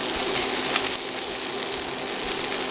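Chicken and onions sizzling in a skillet, a steady close crackling fry with faint pops, alone and unbroken.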